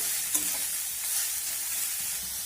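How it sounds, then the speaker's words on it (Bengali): Mixed vegetables are stirred in a frying pan after ginger and garlic, giving a steady soft sizzle with light scraping of the spatula throughout. "এখন আমি এর মধ্যে দিয়ে দেবো সমস্ত সবজি সবজিগুলো দিয়ে একটু নাড়াচাড়া করে নেব"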